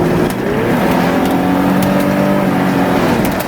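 An Audi Cabriolet B4 Classic 80 drives along a road, with steady engine drone and tire roar as the engine note rises gradually, heard from inside the car at a constant, moderately loud level.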